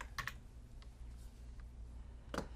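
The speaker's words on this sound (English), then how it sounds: "I'm just going to type out the name Doug Formative." Keys typed on a computer keyboard, a few soft scattered clicks with a quick double tap at the start and another near the end, quiet and close with no talk.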